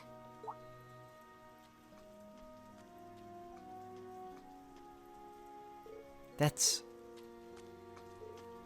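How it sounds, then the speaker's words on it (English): Heavy rain in the game Trails of Cold Steel 3 pours steadily as a faint, constant wash behind music and a voice speaking, with a brief louder burst near the end. "I didn't think it was raining this hard."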